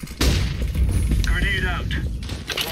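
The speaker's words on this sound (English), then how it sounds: "Throwing flashbang." A flashbang tossed during a competitive CS:GO match on the Inferno map, with a sharp burst followed by a steady layer of gunfire and a brief high ringing tone, all loud and close.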